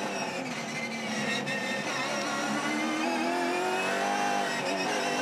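Supercars race car heard onboard at the Gold Coast 500 street race, its loud engine note shifting and easing as the driver backs off the throttle, close and continuous with no talk.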